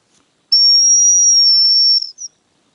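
A hazel grouse decoy whistle sounds one long, steady, high-pitched note of about a second and a half, then a short trailing chirp, loud and close in otherwise silent autumn woodland.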